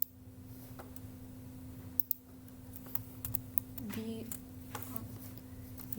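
Sharp, scattered keystroke clicks from a computer keyboard, sparse and uneven over a steady low hum, with a few louder taps and brief faint talk underneath.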